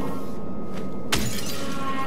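In the Silent Hill 2 Remake video game, a pane of glass is smashed in one sharp, loud shatter partway through, over a constant dark ambient drone.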